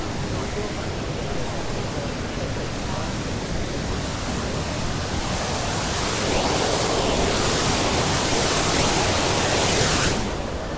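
Outdoor water fountain in a Sydney park, the one featured in the Matrix films, splashing in a steady, loud, close rushing roar that fills the whole stretch without a break.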